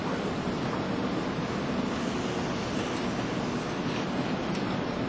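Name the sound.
water flowing through a small turbine after closing bypass valve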